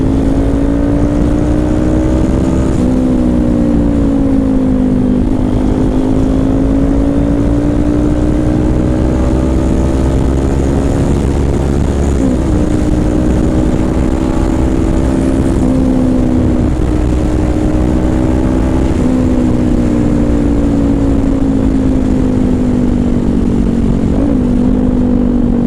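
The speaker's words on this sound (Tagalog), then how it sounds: "Ririnig ko na ang motor ni Moto 5." A Kawasaki Ninja motorcycle engine drones loud and steady at close range, its pitch rising and dipping in slow waves as the throttle opens and eases, with no voices over it.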